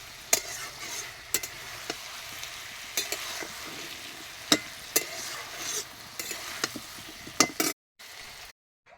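A vegetable curry sautéing in a pan gives a steady close sizzle, broken by repeated sharp clinks and scrapes of stirring, then a brief drop to near silence before the end.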